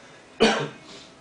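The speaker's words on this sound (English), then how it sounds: "pardon my cough" A single short, sharp cough close to the microphone, followed by a quiet pause.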